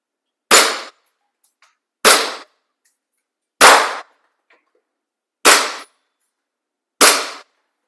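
Five sharp pellet strikes on steel target plates mounted on an indoor shooting panel, each a crisp metallic clang with a short ringing tail, evenly spaced about one and a half seconds apart, close and loud against silence.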